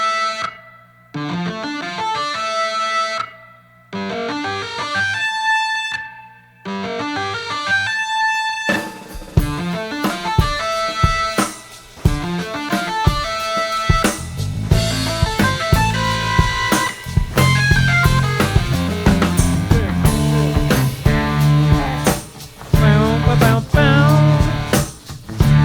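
A song plays loudly, opening with sparse, stop-start guitar phrases before building into a dense, distorted full-band rock sound.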